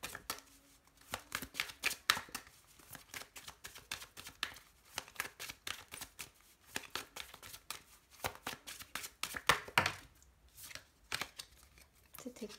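Oracle cards being shuffled and cut for a reading, with rapid riffling bursts and crisp papery flicks in uneven rhythm, close and clear, with brief soft talk in between.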